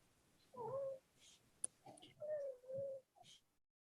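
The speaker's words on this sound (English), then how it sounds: "Oh, that's my cat." A pet cat meowing in a home, with several drawn-out meows and shorter mews spread over a few seconds, fairly close and moderately loud, with a sharp click between calls.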